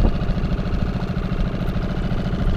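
A Storm 6 four-stroke outboard motor runs steadily on an Aircat 335 inflatable pontoon, giving a close, continuous low engine drone with a fast, even idle pulse that holds throughout.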